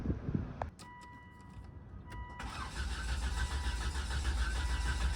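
A 2007 Volvo XC70 engine cranks without starting, and the starter churns steadily and close after a few clicks and a faint tone.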